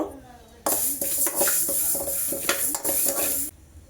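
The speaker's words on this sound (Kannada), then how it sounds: "ಮೆಂತೆಕಾಳನ್ನು ಸ್ವಲ್ಪ ಡ್ರೈ ರೋಸ್ಟ್ ಮಾಡ್ಕೋಬೇಕು" Fenugreek seeds being dry-roasted in a pan, stirred with a utensil that scrapes and clinks against the metal in quick, uneven strokes for about three seconds, close and fairly loud, with no one speaking.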